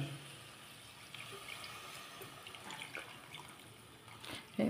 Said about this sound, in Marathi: आता आपण याच्यात पाणी घालूया.